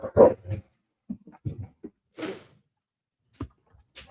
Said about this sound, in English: My dog getting riled up over now.